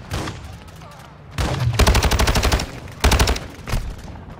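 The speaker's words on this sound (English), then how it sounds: "Taking effective fire." Bursts of automatic gunfire in Call of Duty Modern Warfare 2 on PS5, with a long rapid burst and a shorter one fired close and loud, with lighter shots and game noise between them.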